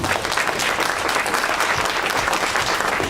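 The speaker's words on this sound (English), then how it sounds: "let's give these panelists a round of applause" An audience applauds panelists at the close of a talk event, producing a dense, even roar of clapping that holds at a steady level for the whole stretch.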